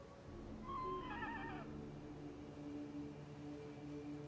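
A horse in the video game Total War: Warhammer 3 gives a single short, faint whinny early on, its quavering cry fading over about a second against a low ambient game hum.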